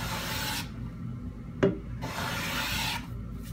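A hand plane takes even finishing passes along a wooden board, two smooth rasping strokes separated by a quiet gap with a small knock between them, close and moderately soft.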